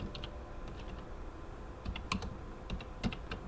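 Someone types on a computer keyboard in a quiet room, a soft scattered run of key clicks with a few sharper taps, faint and close.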